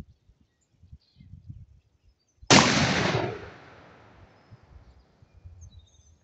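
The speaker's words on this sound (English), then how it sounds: "Let's run down range, check out shot number two from this 10 gauge." A single loud shotgun blast from an H&R 10 gauge at an outdoor range, a sharp report with a long fading tail, preceded and followed by faint rustling and quiet background.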